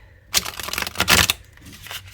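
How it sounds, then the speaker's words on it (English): A Lo Scarabeo tarot deck is back-shuffled by hand in a few quick, close papery bursts of riffling cards, with a short pause between them and no talk. "Let's see if I can get it to back shuffle. So it's a Low Scarbeo deck."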